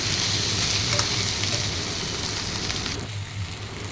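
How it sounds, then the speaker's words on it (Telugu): Salt and turmeric are stirred into a taro root curry in a hot pan, with steady frying sizzle and soft scraping strokes throughout. The sound is close and continuous, with no talk. "అలాగే కొంచెం పసుపు, ఇవన్నీ వేసేసుకొని మొత్తం అంతా ఒకసారి మిక్స్ చేసేసుకుందాం."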